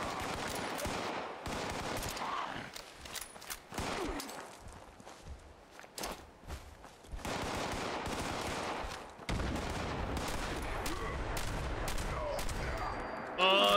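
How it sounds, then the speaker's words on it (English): Shotgun fire in a video game, a burst of loud, close blasts mixed with other rapid gunfire and game noise across the clip, with no clear talk over it. "Oh, this shotgun is so much better."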